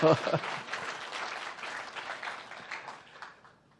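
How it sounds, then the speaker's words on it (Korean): At a forum on microbiome farming and public health, the audience gives a brief round of applause that starts strong and fades away over a few seconds. "박수를 한번 이 어머니들에게 한번 쳐주시죠"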